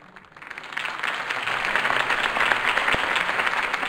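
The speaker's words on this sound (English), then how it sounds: "If only Mr. Wayne, my campaign's largest backer, could have heard that applause" Crowd applause after a campaign speech in a Batman video game, a dense wash of clapping that swells within the first second and holds steady and fairly loud to the end, with no talk over it.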